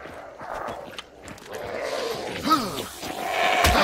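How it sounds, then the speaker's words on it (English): Footsteps of a character in a video game, clip-clopping steps close by over a murky game soundscape with creaks and a rising hum, no one speaking. "Not very stealthy, I hear your footsteps, Carl."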